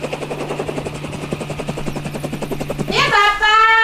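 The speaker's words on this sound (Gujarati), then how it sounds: "એ હું હેલિકોપ્ટર જોવા જાઉં છું" A helicopter passes overhead with a steady rhythmic thumping rotor chop for about three seconds before the sound switches abruptly to a sustained tonal hum.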